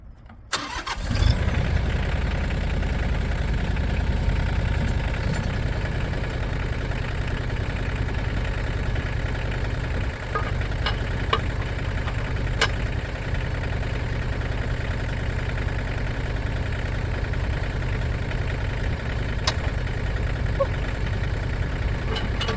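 A Mahindra tractor engine catches and settles into a steady low idle that runs on unchanged, loud and close, with a few faint clicks.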